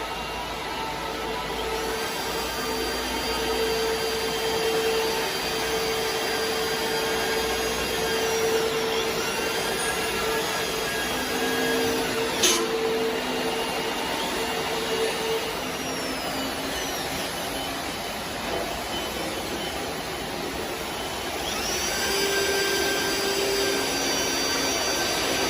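A pipe nipple automatic seam welding machine runs a test cycle, giving a steady mechanical whine and hum with tonal lines that shift partway through, with a brief sharp click near the middle and no talk.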